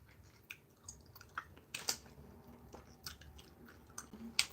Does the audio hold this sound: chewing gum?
yes